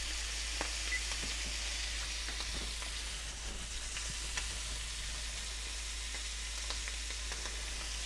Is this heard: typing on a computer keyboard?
no